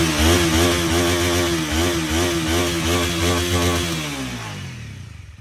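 A 2020 Honda Rebel 250cc motorcycle engine runs with a steady, throbbing mid-pitched drone up close, then fades away toward the end.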